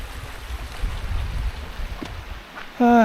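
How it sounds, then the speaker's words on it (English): A river on the Dales Way flows past with a steady low rushing and gurgling, fairly close, before a voice briefly cuts in at the end. "I'm just showing you a bit of the"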